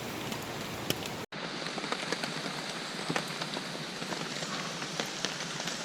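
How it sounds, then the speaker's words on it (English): Steady rain patters on a tent during a soggy September wild camp, a dense continuous hiss with scattered louder drops tapping the fabric close by, briefly cut by a short gap. "So rain has just started again."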